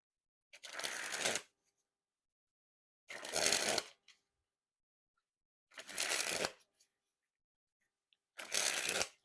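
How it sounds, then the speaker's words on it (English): Ramen Heads playing cards by Art of Play sprung from hand to hand, four separate fluttering bursts of riffled card edges, each about a second long, evenly spaced by near silence, close and crisp with no talk. "now that we took a look at the cards, time to test the handling. And as always, we'll start with the springs."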